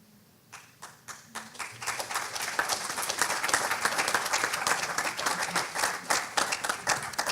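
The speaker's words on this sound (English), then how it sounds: "I always like to hear applause when I sit down." Audience applause at a jazz panel, starting with a few scattered claps and swelling into steady, sustained clapping from a room full of people, loud and close with no talk over it.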